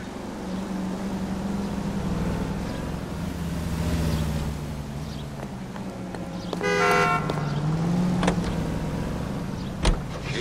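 A car in the video game L.A. Noire drives along with a steady low engine rumble and road noise, shifting pitch slightly, while a brief horn-like toot and a sharp click break through near the end.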